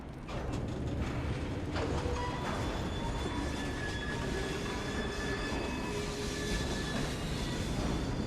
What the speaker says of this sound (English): We fixed up the train for you.